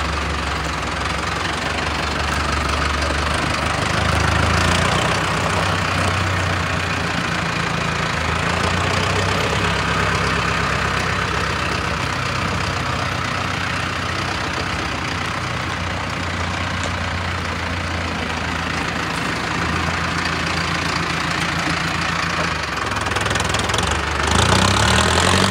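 A John Deere tractor engine idles steadily with a low, knocking rumble throughout, briefly revving louder near the end; no one speaks.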